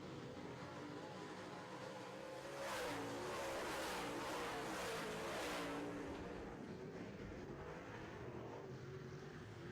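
Modified race cars roar around a track, engines building as the pack passes close by and then fading into a distant drone.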